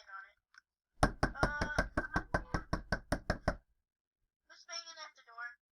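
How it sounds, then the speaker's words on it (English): Loud banging knocks on a door in a cartoon, about a dozen hard evenly spaced raps in a quick run, with brief voices heard before and after the knocking. "Who's banging at the door?"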